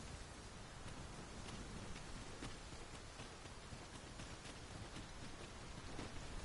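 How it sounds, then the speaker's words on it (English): Heavy rain pours down in Dragon's Dogma 2 as a dense, constant hiss with faint scattered drop impacts, steady and unbroken with no voices. "It is raining most heavily"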